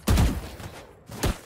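Gunfire in the game Valorant: a quick burst of shots at the start, a pause, then another sharp shot near the end, loud and close with no talk.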